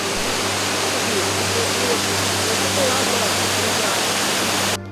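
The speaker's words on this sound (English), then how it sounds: "It is the point where water stream overflowing from Pheva Lake suddenly collapses and surges down the rocks into a deep gorge" Patale Chhango (Devi's Fall), where overflow from Phewa Lake plunges down rocks into a deep gorge, roars as a loud, steady, dense rush of falling water that fills the whole stretch without letup.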